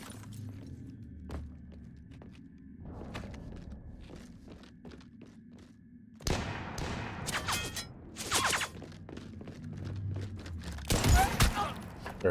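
Gunfire bursts in the Mass Effect 3 Reaper invasion battle, sharp loud volleys crowding the second half over a rumbling background, after a quieter stretch of scattered thuds and footstep-like knocks.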